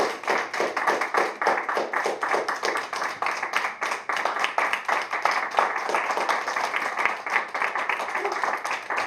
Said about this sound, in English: One more round of applause for this fellow.